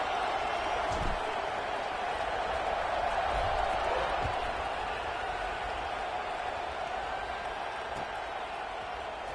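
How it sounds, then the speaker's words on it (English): College football stadium crowd buzzing after a score before a kickoff: a dense, continuous roar of many voices with faint scattered claps, under a commentator talking. "this crowd is buzzing after that last score"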